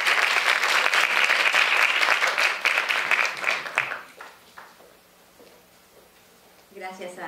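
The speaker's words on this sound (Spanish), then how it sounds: "un aplauso para ustedes por estar aquí con nosotros" An audience at a 2019 International Day of Women and Girls in Science event applauds in a dense, steady burst that tapers off after about four seconds, leaving quieter sounds and a brief voice at the end.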